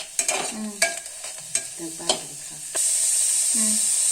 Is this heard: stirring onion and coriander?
yes